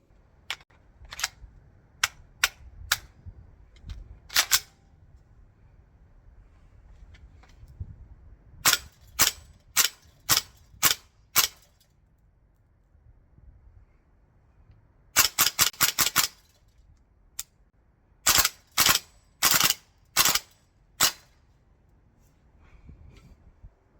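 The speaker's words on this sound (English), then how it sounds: "let's get some gas and BBs in there, and let's take it outside and test it out." Prow Spear XM7 gas blowback airsoft rifle firing BBs outdoors: sharp cracking shots, first spaced singles, then a quick cluster and two rapid bursts, loud and close with a quiet background.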